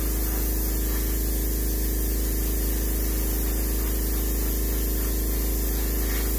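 An airbrush sprays white paint onto a muskie for taxidermy, giving a constant, close, loud hiss alongside a steady compressor hum.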